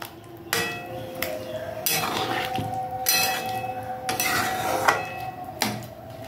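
A spoon scraping and clanking against a metal cooking pot while a vegetarian Navaratan korma is stirred, a series of loud, close metallic knocks and scrapes roughly every second over a faint background hum.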